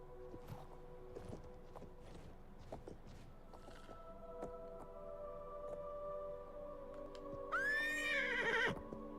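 A horse in the video game Oblivion Remastered whinnies loudly near the end, a rising, wavering neigh over a soft tonal game score and scattered hoof clip-clops.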